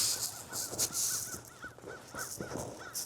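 A crow caws several times in a rhythmic series, fairly clear against light outdoor background noise.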